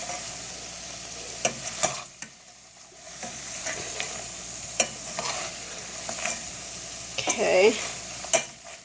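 Cinnamon sugar tortillas frying in a hot pan give a steady low sizzle at moderate distance, broken by occasional stirring clatter and scrapes of a utensil, with no talking.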